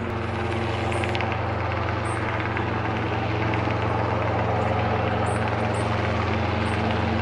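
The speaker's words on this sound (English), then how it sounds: "Some really crappy helicopter up there." A helicopter passes overhead outdoors during a late-November mushroom hunt in the woods, its steady low engine drone continuous and fairly loud throughout, with no talking.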